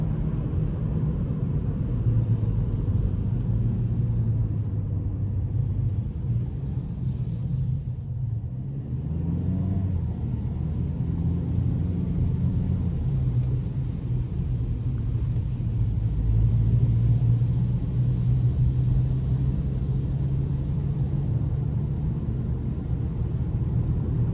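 2026 Ford Maverick XLT AWD with the 2.0-liter turbo engine pulling in sport mode, heard from inside the cabin as a steady, loud low rumble with engine tone rising and falling over road noise, no talking.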